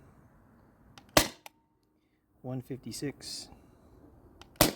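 A Sabre 68 HDL paintball marker fires single sharp shots over a chronograph, two loud cracks a few seconds apart with someone talking between them.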